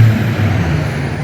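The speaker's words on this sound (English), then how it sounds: "FedEx truck's is loud." A FedEx delivery truck engine rumbles loud and close, a steady low drone with a broad hiss above it and no break over its brief length.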